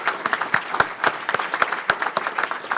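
An audience claps for humanitarian-service award nominees as two honorees stand, the applause steady and moderately loud with distinct individual claps spread across the room.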